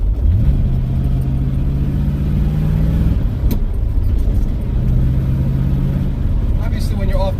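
Car exhaust fitted with a Magnaflow muffler, heard from inside the cabin with the windows up: a steady low engine drone that rises and falls across different RPM ranges, continuous throughout.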